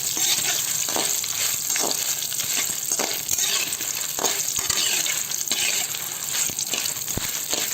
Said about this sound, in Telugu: ఎండుమిరపకాయలు ఇది కొద్దిగా ఒక నిమిషము 2 నిమిషాలు సిమ్లో పెట్టి వేయించాలి.